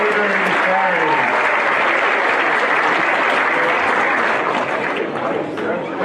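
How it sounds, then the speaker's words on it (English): An audience applauds high school choral members at a district arts festival, a loud, sustained clapping that fills the room and tapers slightly near the end, with some voices mixed in. "give it up for our high school choral members"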